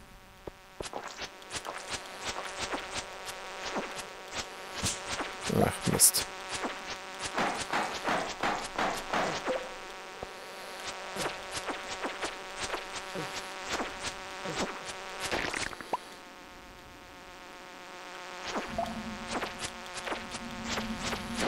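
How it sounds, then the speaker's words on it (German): Flying insects buzz in a mine in the video game Stardew Valley, with dense, repeated high-pitched buzzing passes that swell and fade over a faint ambient hum, then thin out toward the end. "Ich höre es auch schon summen."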